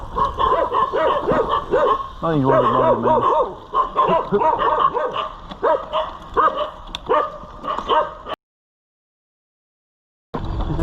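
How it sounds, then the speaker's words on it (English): Three dogs bark and yip repeatedly in close, loud bursts along a muddy trail behind a campus, heard while riding a bike; a voice speaks briefly among the barks, and the sound cuts out for a couple of seconds near the end. "Right, and then there's some dogs."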